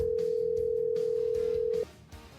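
A steady electronic phone tone sounds while a video call is placed back, a single flat continuous hum that cuts off abruptly near the end, faint background hiss behind it.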